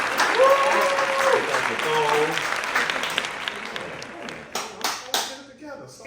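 An audience claps for Pia Renee, a burst of applause mixed with talking voices that thins out into a few scattered, separate claps toward the end.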